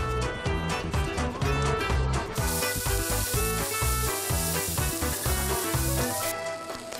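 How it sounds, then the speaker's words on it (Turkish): Meat sizzles on a barbecue grill at a summer picnic in Istanbul, a steady hissing crackle that sits beneath loud music throughout. "Cız sesini duyduk, mangallar başladı demek."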